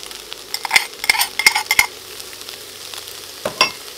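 Cabbage with spicy garlic sauce stirred in a wok: bright metallic scrapes and clinks of a utensil in quick clusters over a faint sizzle, close and fairly loud.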